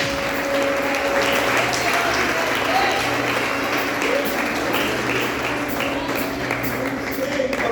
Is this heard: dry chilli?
no